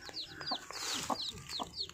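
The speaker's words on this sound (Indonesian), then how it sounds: "Ini ayam elba." Elba chickens clucking and peeping up close, a quick series of soft clucks and high chirps from a hen with young chicks, faint overall and with no talking.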